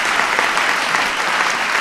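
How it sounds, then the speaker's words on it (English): An audience at the White House science fair breaks into loud, close, dense applause, a brief continuous burst of clapping. "So give Peyton a big round of applause."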